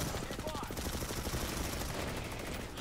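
Gunfire in the video game Planetside during an infantry league match, including bolter sniper rifle shots, as a dense continuous stream of rapid shots and battle noise, loud throughout, with game sound filling the whole stretch.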